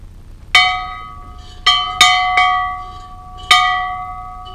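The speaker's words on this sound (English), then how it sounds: "Hey, ring that bear bell." A small metal bear bell rings in the North Woods, struck five times at uneven intervals; each clear, bright chime rings out and decays in a quiet outdoor setting.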